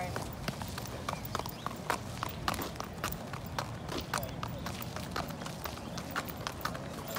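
A racehorse galloping at speed during a morning workout, rapid rhythmic hoofbeats pounding steadily and close, with a voice talking over the hooves.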